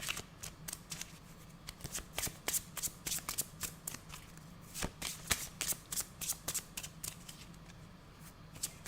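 A deck of cards shuffled for a psychic card reading, heard as a rapid series of crisp riffling flicks and taps in steady bursts, close and fairly clear with no talking.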